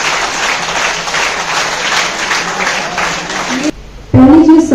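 Steady, loud audience clapping at a World Mental Health Day gathering runs for several seconds, then cuts off abruptly, and a speaker's voice follows.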